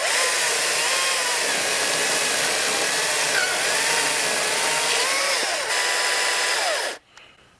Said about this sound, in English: this gas-powered chainsaw right here